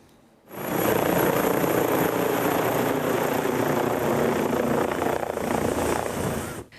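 An emergency medical helicopter flying over the Veneto region gives a loud, steady roar of rotor and engine that starts abruptly and holds for about six seconds.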